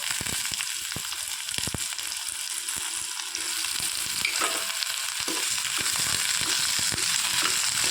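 Chopped onions and potatoes sautéing in a pan for a home-style potato curry: a constant bright sizzle with scattered sharp clicks and scrapes of stirring, growing slightly louder midway, close up and without voices.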